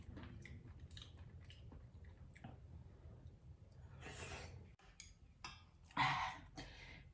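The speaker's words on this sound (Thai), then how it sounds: "เห็ดก็กรุบกรุบดี" Close, wet chewing and crunching of mushrooms in tom yum soup with soft slurps and breaths, bites coming irregularly and no speech.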